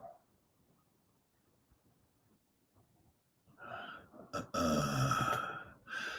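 A dog in a condo gives a few loud, close barks and snorting yelps after several seconds of near silence with soft breathing.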